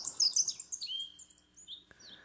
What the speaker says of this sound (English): We have a bird.